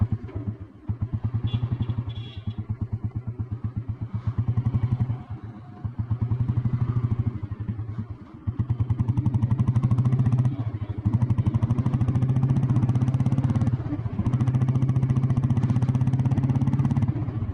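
An old Royal Enfield Bullet Blue Deluxe with self start runs steadily, its deep, even thump continuing close by throughout with no speech over it.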